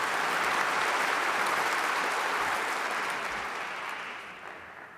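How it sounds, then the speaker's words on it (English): A large crowd applauds at a university commencement ceremony, a broad continuous wash of clapping that holds strong, then slowly fades toward the end, with no speech over it. "Round of applause."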